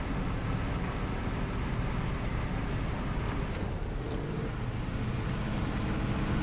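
Truck engine in the SnowRunner video game, a continuous low, broad rumbling drone with steady loudness throughout, no talk over it.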